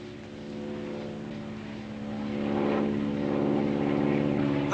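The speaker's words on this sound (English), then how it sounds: "Plane off the starboard quarter." Propeller airplane passing near a ship at sea, a droning engine hum that swells louder toward the end over a steady low rumble.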